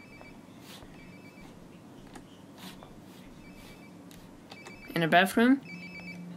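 Short phone ring from the game Life is Strange: Before the Storm, a bright trilling burst near the end after quiet ambience, while a player talks over the scene.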